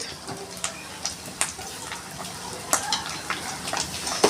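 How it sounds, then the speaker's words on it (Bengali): Chili paste frying in oil in a pan for doi katla, a continuous crackling sizzle broken by repeated sharp utensil clinks and scraping stirs, close by. "লঙ্কা বাটা এক এক করে নিয়ে লাল লাল করে ভেজে নেব"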